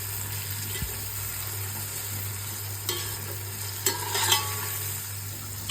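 Green chillies for chicken biryani sauté in a pan, a steady low sizzle under a constant hum, with a few scraping stirs of a spoon partway through.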